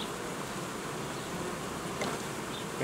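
Honey bees in improvised hive nuclei, a dense continuous buzzing hum with no breaks, heard close and steady, no talking.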